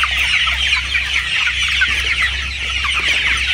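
A large flock of 45-day-old farm chickens keeps up a loud, continuous chorus of overlapping clucks and chirps, heard close and unbroken over a low hum.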